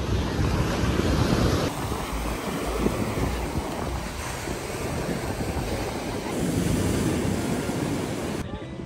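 Ocean surf washing onto a beach at Seminyak, Bali, a steady broad roar with strong wind buffeting the microphone throughout, continuous and fairly loud.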